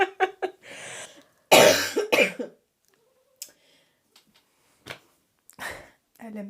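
A woman coughs several times in harsh, close bursts, with throat clearing between them. Soft speech and quiet gaps fill the rest.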